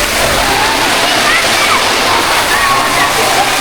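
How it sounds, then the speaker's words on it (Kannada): Natural water runs down from a hillside near a water park at Hampi. It makes a close, loud, steady rushing and splashing that carries through the whole clip, with voices faintly mixed in beneath it. "ಬೆಟ್ಟದಿಂದ ಹರಿದು ಬರ್ತಾ ಇದೆ ನೀರು"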